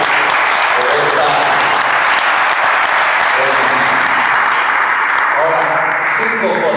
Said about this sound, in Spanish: Vamos a darle un aplauso a Jesús por esta.